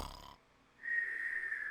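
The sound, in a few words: person imitating snoring as if asleep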